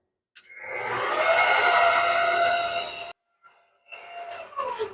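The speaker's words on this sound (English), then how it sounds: "put our dough hook onto the mixer. And now we're going to mix this for about 3 minutes on low" A stand mixer with a dough hook kneads keto brioche dough on low speed, giving a steady whirring motor hum for about three seconds that stops abruptly, then restarts more quietly for a short stretch.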